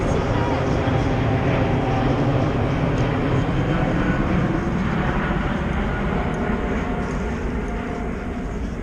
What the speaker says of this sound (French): Là vous entendez un avion là-haut.